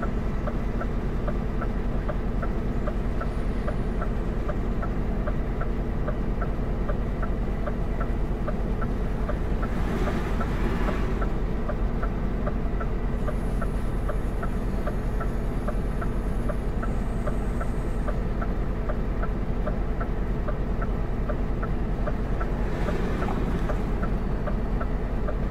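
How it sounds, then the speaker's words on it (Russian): A truck engine held at raised revs in neutral to build up air pressure, a steady loud drone with a throbbing low rumble that runs unbroken throughout, with no speech. "На нейтралке обороты поднимем, попробуем накачать"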